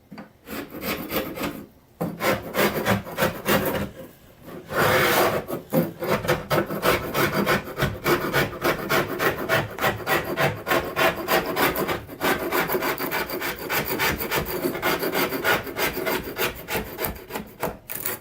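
Continuous rough scraping of material being peeled off a surface in a bathroom remodel, steady rasping strokes going on for a long stretch with only brief pauses, close and fairly loud.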